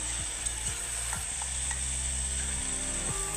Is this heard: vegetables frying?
yes